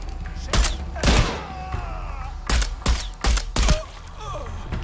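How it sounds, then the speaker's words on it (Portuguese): Gunfire in the video game Shadow of the Tomb Raider: several loud, sharp shots and thumping bursts in irregular clusters, with a voice talking in between. "Quem tá me dando tiro?"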